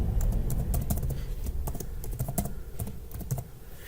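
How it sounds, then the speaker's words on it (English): Someone types an email address on a computer keyboard, giving a quick, irregular run of close, crisp key clicks with brief pauses between bursts and no talking. "start typing the email address"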